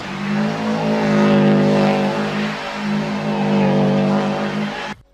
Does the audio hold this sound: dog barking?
no